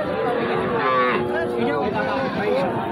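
A native-breed heifer calf at a crowded livestock market lets out a drawn-out, wavering moo, fairly close, with buyers and sellers chattering in the background.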